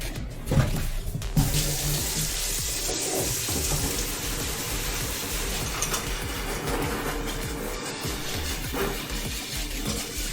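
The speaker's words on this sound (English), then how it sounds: "We'll give the other strainer a quick rinse out" Tap water runs steadily into a kitchen sink while a strainer is rinsed after straining chicken stock, a close continuous splashing rush with a few clunks near the start.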